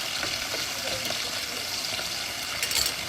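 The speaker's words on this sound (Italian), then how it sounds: "mettiamo olio per friggere e le andiamo a friggere" Steady, faint hiss and crackle of fava beans sizzling in hot frying oil, with a few brief pops near the end.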